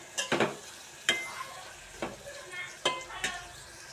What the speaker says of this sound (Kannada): ಇವಾಗ ಈರುಳ್ಳಿ ಚೆನ್ನಾಗಿ ಫ್ರೈ ಆಗ್ತಾ ಇದೆ